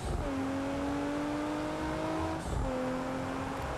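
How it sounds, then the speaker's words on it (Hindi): A Toyota Supra engine revs in the BeamNG Drive racing game, a steady droning tone that climbs gradually, dips briefly and then rises again, loud and continuous with no talking. "Okay, here we go, Toyota सुपरा। भाई क्या आवाज़ है इस गाड़ी की"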